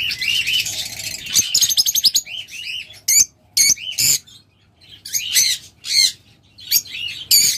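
A pair of sea green pet birds calls close by with a busy run of sharp chirps, squawks and warbling tweets in quick bursts, with brief pauses between.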